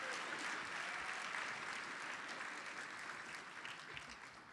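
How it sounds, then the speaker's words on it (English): A ballroom audience at a formal charity gala claps steadily for a check presentation from Johnson Controls, a dense, even wash of applause that stays level throughout. "You'll want to clap loud for this one."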